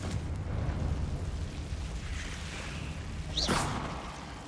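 A Confringo fire spell from Hogwarts Legacy goes off as a short whooshing blast near the end, over a dense rumbling game background.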